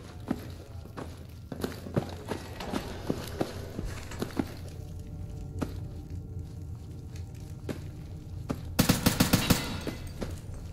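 Semi-automatic rifle fire in Fallout 4, a string of sharp single shots spaced irregularly amid footsteps and movement, ending in a loud, rapid burst of several close shots.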